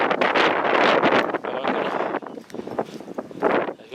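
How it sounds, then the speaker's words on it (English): Strong wind gusts across a sandy beach, buffeting the microphone in loud, rough surges that ease briefly and then build again. "I'm going to head out into this wind"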